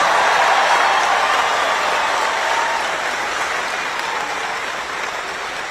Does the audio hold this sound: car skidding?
no